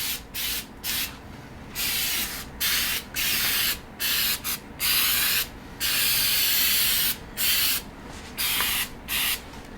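Undercoating is sprayed under Metal Cloak fender flares in repeated loud hissing bursts of about half a second to a second each, separated by short pauses, close and with no talk.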